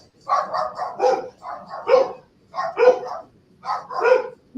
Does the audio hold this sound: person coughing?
no